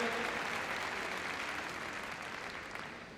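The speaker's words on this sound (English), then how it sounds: "Give it a big round of applause." Audience applause in a large arena after a heelwork to music dog routine at Crufts 2012, a steady wash of distant clapping that slowly fades over a few seconds.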